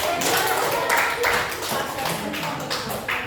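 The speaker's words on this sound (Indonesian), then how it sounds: "Berikan aplaus dulu untuk tim laki-laki" A classroom group claps in applause for the men's team, a dense patter of hands with uneven swells, heard close and mixed with people talking.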